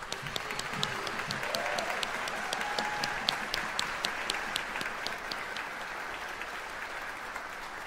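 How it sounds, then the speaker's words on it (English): A steady round of audience applause for student performers at a band concert live stream, a continuous wash of many hands clapping at moderate distance, with no talking. "Let's give these students a big round of applause."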